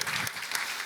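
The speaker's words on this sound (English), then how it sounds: "So please give a huge round of applause to Colin" An audience at a talk in Helsinki claps, a dense patter of applause at moderate distance with no voices standing out.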